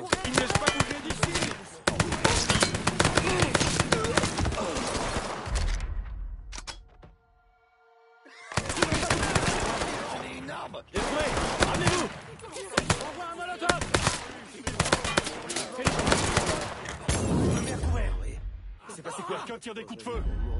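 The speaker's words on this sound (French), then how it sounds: "Tire des coups de feu." Sustained bursts of rapid gunfire and explosions crackle loudly in a PS4 game, broken by a brief lull, with voices mixed into the chaotic action.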